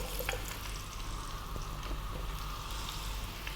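Cumin seeds and onion fry in a hot pan for a spiced pumpkin soup, giving a steady, moderately loud sizzle with a few small pops and ticks and no voices.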